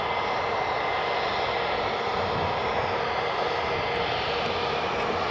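An EasyJet airliner taxis at Edinburgh Airport, its engines a steady, broad roar that holds without a break. It sounds moderately distant and carries on with no voices over it.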